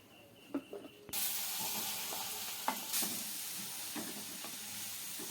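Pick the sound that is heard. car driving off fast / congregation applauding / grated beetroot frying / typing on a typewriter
grated beetroot frying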